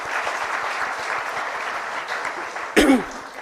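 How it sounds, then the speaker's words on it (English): A brief burst of applause for the organizers of a charity event, rising suddenly and fading quickly, heard faintly behind a steady background din. "a big round of applause to them"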